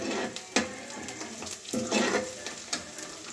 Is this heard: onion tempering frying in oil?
yes